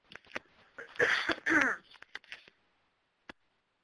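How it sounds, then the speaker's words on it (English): A person clears their throat and coughs in a couple of harsh bursts, followed by a few soft breaths and a small click, close to the microphone. "I really am having a little coughing fit"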